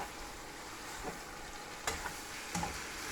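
Steady, close sizzle of water hitting hot pork fat in a frying pan, a constant hissing crackle broken by a few sharper pops and spits.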